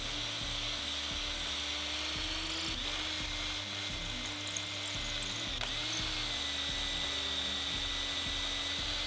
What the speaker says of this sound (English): we're gonna use our broach and our hand drill to file and drill out the rest of that material